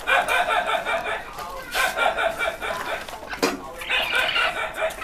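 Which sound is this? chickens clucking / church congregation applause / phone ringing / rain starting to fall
chickens clucking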